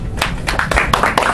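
A handful of scattered claps from an audience at an improv comedy show, brief and close, mixed with a speaking voice.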